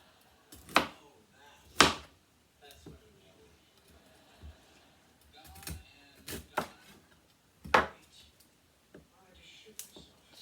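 Knife chopping fresh broccoli on a board in a home kitchen, a handful of sharp, separate thuds spread unevenly with pauses, close and fairly loud against a quiet background.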